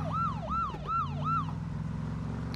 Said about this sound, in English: You just turn the sirens on and alert everybody to our position